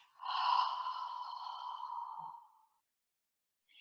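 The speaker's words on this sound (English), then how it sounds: "So big breath in and a big breath out." One slow, deep breath drawn in and released during a Pilates mat exercise, soft and airy, close and alone, fading into silence.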